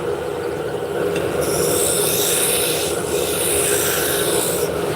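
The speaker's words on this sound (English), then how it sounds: "Go back to my gouge and we're going to blend that angle." A gouge cuts wood spinning on a lathe while a finial is shaped, producing a loud, continuous, close scraping hiss that holds steady throughout with no talk.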